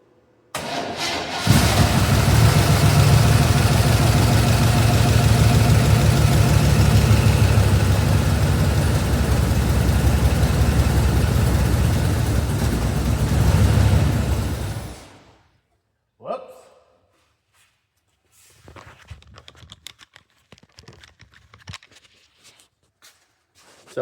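A Chevrolet Bonanza square body truck that has sat for 15 years is cranked and fires, running roughly and loudly for about fourteen seconds before shutting off, followed by quiet with faint rustling and brief talk.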